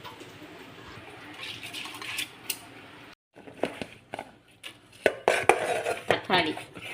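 Moong dal rinsed in a metal vessel gives scattered clinks, scrapes and sloshing clatters, quiet at first and then busier, with a short silent gap midway and no talking.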